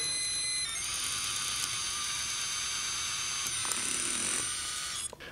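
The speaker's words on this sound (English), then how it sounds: "keep that drill moving" A high-pitched surgical drill whines steadily nearby during foot bunion surgery, running without pause for several seconds before winding down at the end.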